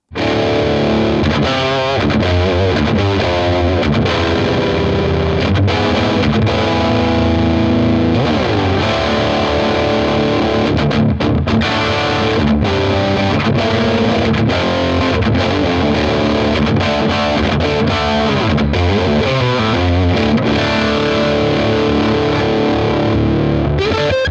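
Heavily overdriven electric guitar through a cranked Blackstar TV-10 tube amp, loud and continuous with thick sustained chords and riffs, no voices.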